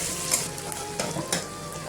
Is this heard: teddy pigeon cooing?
no